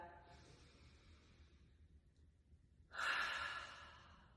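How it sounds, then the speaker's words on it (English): A deep breath is taken during a somatic movement practice, a slow, soft inhale followed by a louder, airy exhale close to the microphone, with no talking. "And we're gonna take a breath."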